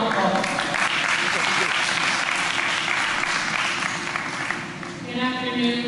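A live audience applauds for spoken word artist Rachel Motley, with steady, dense clapping that carries on throughout and a faint voice or two mixed in near the end.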